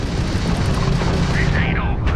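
Ship weapons in the Starfield video game fire a homing missile: dense booming blasts and crackling bursts, loud and continuous, with a short swooping whine near the end.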